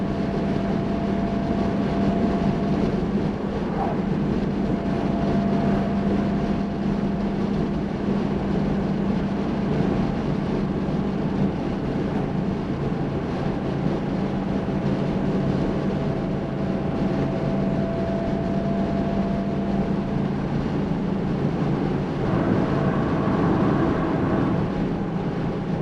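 A 1966 Mercedes W111 250SE Coupe with a four-speed manual cruises at about 3,500 RPM, its engine a loud, steady droning hum heard from inside the cabin, with wind and road noise and no talking.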